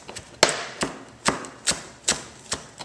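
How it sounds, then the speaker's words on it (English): Cooking shears snip through fresh cilantro in a steady series of about seven crisp, close cuts, evenly spaced and sharp-edged, with no voices. "I just do it with the cooking shear."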